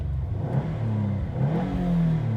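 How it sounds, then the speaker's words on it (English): A Subaru WRX STI Final Edition saloon of 296 bhp revs its engine, a loud close growl that rises and dips as the throttle is blipped, with no voices over it. "Let me just rev it again."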